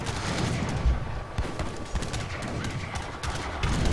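Culverin cannon fire in a strategy battle game between French and British armies, with repeated sharp bursts of distant gunfire over a busy background of battle noise.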